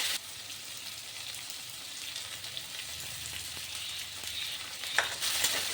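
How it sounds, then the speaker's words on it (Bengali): Potatoes and vegetable stems fry with ginger paste for a Bengali-style rui fish curry, making a steady, close sizzle with a brief clatter near the end and no talk. "এখন আদা বাটা দিয়ে আরও কিছুক্ষণ ভেজে নিচ্ছি।"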